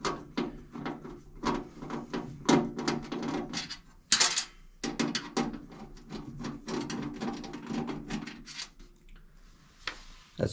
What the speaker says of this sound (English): I'm going to go ahead and I'm going to start removing these screws here.